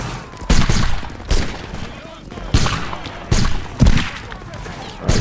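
Musket volleys in a multiplayer line-infantry battle game boom out in a series of loud, ragged crackling bursts, roughly five across a few seconds, with voices talking in between.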